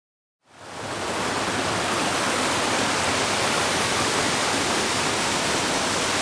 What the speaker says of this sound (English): So that's the terminal fall on MacInnis Brook.